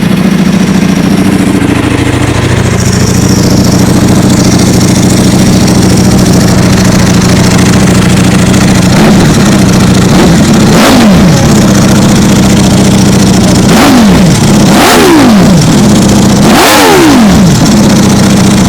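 A Ducati V4 SP or Aprilia RSV4 1100 superbike V4 engine idles loudly and steadily up close, with a dry clutch rattle, then blips through several sharp throttle revs in the second half.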